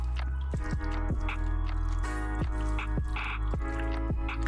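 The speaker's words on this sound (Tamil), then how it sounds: "இந்த அளவு எலுமிச்சை சாறு அதையும் சேர்த்துட்டு நல்லா பிசைஞ்சுக்கலாம்." Hands knead mutton with lemon juice and spices, giving wet squelching and dripping sounds in a steady rhythm, close up over a constant background hum, with no speech.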